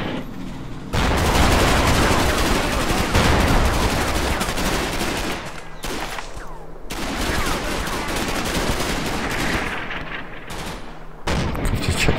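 Dense rattling gunfire and bursts of machine-gun fire sound in the Combat Mission Market Garden war game. The firing is loud and nearly continuous, with brief lulls between volleys.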